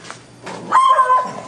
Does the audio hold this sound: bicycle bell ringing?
no